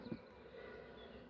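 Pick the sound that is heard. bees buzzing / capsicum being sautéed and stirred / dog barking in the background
bees buzzing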